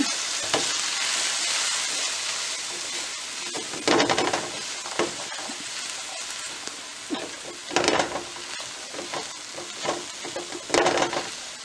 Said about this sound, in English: And stir this up.